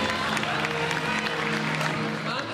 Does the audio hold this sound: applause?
yes